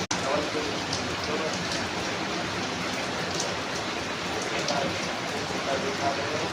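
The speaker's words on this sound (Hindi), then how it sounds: "आज बहुत तेज़ बारिश पड़ रही है" Heavy rain pours down steadily in Agra, India, a dense, constant hiss of drops hitting surfaces close by, with no let-up throughout.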